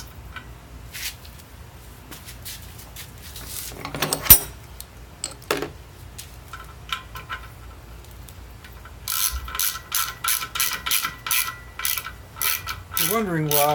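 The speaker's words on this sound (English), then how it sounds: "here's where our E12 socket comes in" A ratchet fitted with an E12 socket works on the bolts of a Mini R50 Getrag five-speed transmission, scattered clicks and clanks early on giving way to a close, steady run of fast ratcheting strokes.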